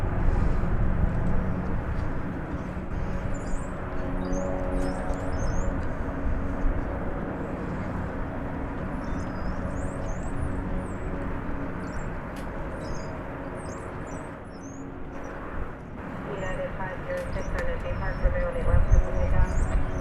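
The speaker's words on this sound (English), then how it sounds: "Flight 2902 Spirit, an Airbus A320 going out to Phoenix." Spirit Airlines Airbus A320 airliner departing DFW Airport bound for Phoenix, a sustained distant jet engine roar with low rumble that dips briefly then swells again, heard under birdsong chirps.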